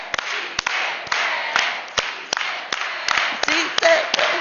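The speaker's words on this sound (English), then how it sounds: "let's put our hands up together and do a big organized hand clap." A crowd at an awards event claps in unison, sharp synchronized hand claps landing in an accelerating rhythm over a wash of cheering voices, loud and close.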